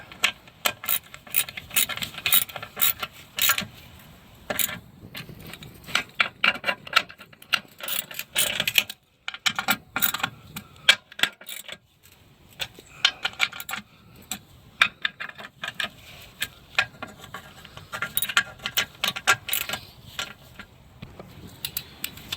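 A torque wrench tightens 12 mm oil pan bolts on a 2008 Suzuki Forenza, giving close, irregular clusters of sharp ratcheting clicks with brief pauses between bursts and no talking.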